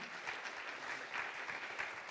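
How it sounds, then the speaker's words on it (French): Quiet, steady applause from a conference audience after a testimony on supporting agroecological transition, a soft continuous patter of many hands heard from some distance. "Est-ce que on peut l'applaudir déjà pour ce témoignage et le remercier."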